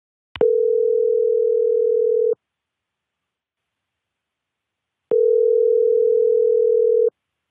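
A steady telephone tone sounds while a call is placed, two long flat beeps of about two seconds each with a silent gap between them, loud and clean.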